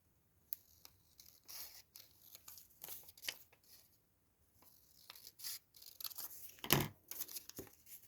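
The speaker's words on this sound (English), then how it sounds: "I think I might just cut this down slightly." Scissors snip through a printed journal card at a craft table in a series of short, crisp cuts with small gaps between them, close by and fairly quiet.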